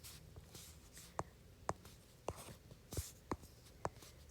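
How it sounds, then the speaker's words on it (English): A word is written out by hand during a biology lesson, faint scratchy pen strokes in short separate bursts with small taps between them, quiet and close with no speech. "So I'll write this out."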